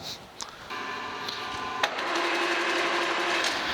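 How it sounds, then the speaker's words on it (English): A Monarch 10EE metal lathe starts up after a few faint clicks, its motor whining up to speed and settling into a smooth, steady mechanical hum, fairly quiet and close, with no one speaking. "Let's fire the lathe up."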